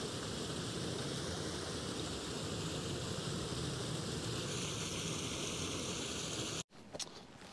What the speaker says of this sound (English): That there is a good example of a stream that I would happily drink out of, coming straight off the mountain